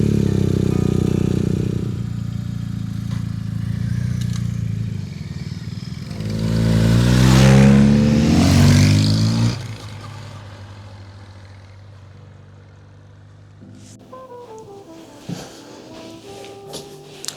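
Motorcycles and old cars ride around together, making a steady engine drone. A louder, rising pass swells mid-way and fades, then rattling and clattering follow at a lower level.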